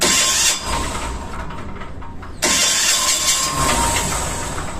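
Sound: diesel emergency fire pump engine starting on a ship

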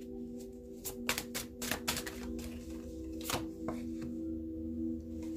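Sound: shuffling tarot cards

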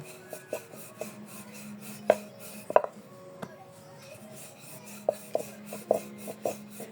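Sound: rolling out flour-dusted dough with a rolling pin

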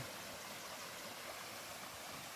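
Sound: water flowing in a stream

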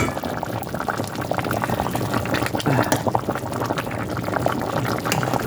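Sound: pork and whole potato stew boiling in a pot

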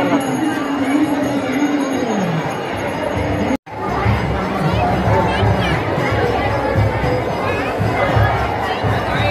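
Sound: crowd chatter at hill temple fair

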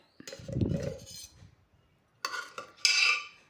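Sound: spooning cooked chickpeas into a mixer jar

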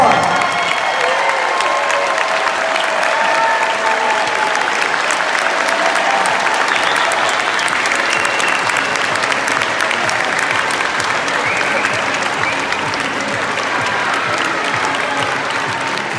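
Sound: audience applauding at student film awards

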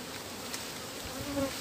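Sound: honeybees buzzing around a beehive

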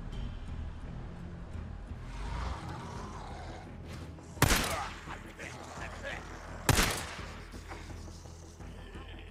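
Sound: pistol gunfire in the video game Days Gone

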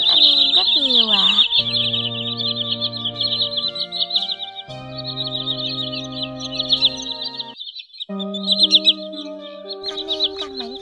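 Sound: common greenshank (white-bellied) bird call

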